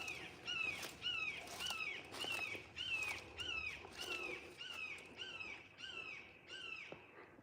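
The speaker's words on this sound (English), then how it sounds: "Got a local hawk here." A wild hawk calling on a nature walk at Rancho San Antonio, giving a steady series of about a dozen sharp, descending squawking cries at regular intervals, fairly close over an outdoor background hiss.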